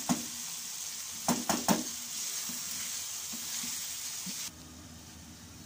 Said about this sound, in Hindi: ये सिर्फ इसी वजह से है क्योंकि इसको मैं अच्छी तरह भून रही हूँ।